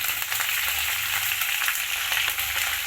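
Curry leaves and slit green chilies sizzle and crackle steadily in hot oil while semiya upma is being made, a close, continuous frying hiss with occasional stirring.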